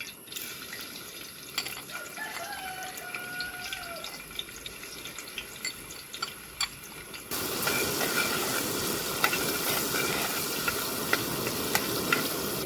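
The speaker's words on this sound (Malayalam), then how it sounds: "ഓയില് കട്ട് ചെയ്ത് വെച്ച ഇഞ്ചി വെളുത്തുള്ളി ഇട്ട് കൊടുക്കാം" Chopped ginger and garlic drop into hot oil for a green peas curry masala, sizzling steadily with light spatters, then the frying rises suddenly louder and denser about midway and stays strong, close by.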